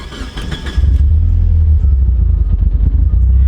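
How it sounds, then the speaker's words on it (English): A Mitsubishi Evo engine starts up and settles into a loud, deep, steady rumble close by. "It's got a nice rumbling sound here."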